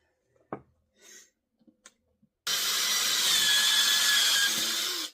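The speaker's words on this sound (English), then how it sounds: "I want to put the hole in it before I start carving it" A few faint knocks and taps, then a power drill bites into wood with a loud, steady high-pitched whir lasting nearly three seconds before stopping.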